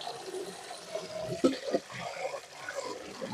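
Tap water runs for washing while a Tai Yai country dish of eggplant with pork skin is prepared, a steady splashing flow heard close by with people talking over it.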